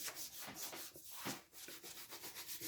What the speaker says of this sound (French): Donc on frotte bien avec la main.